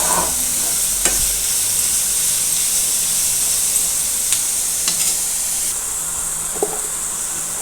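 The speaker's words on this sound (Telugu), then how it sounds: "తురుము పెట్టుకున్న క్యారెట్ తురుము వేసేసేసి కొంచెం పచ్చి వాసన పోయేంత వరకు మగ్గించాలి." Grated carrot sautés in a hot pan for carrot rice, giving a steady close sizzle and hiss throughout with a few faint stirring scrapes and no talk.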